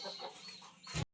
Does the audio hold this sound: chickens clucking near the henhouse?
yes